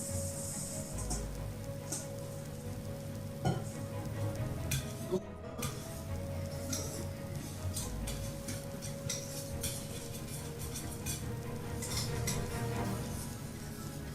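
Chocolate is gently stirred into a cream pie filling in a pot, making quiet, continuous soft scraping with faint clicks of the utensil against the pan over a low background hum.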